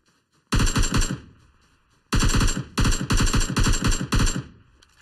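Automatic gunfire in the mobile battle royale game PUBG Mobile on the Vikendi map, with loud, close rapid bursts: one long burst, a short gap, then several dense repeated bursts, no talking.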